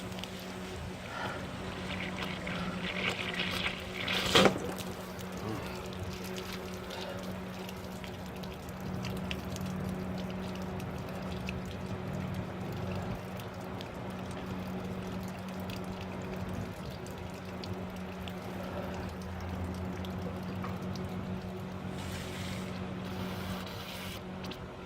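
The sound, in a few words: garden hose water flushing out RV hot water tank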